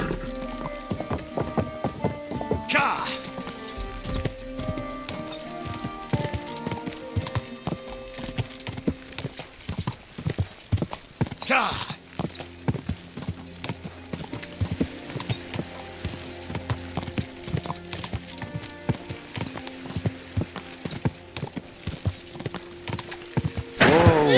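Horse hooves clip-clop steadily in Kingdom Come: Deliverance II while riding through Kuttenberg, with rhythmic close footfalls, occasional louder knocks and faint background game ambience, without talk.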